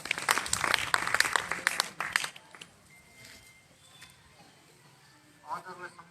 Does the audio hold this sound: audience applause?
yes